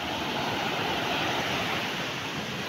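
Ocean waves wash continuously onto a beach, a loud, steady hiss of surf with no pauses, at Batu Karung beach in Pacitan, Indonesia, recorded on an Infinix Hot 30 Play phone.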